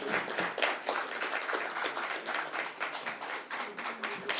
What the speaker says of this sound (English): I love that some of us are really keeping up with the clapping.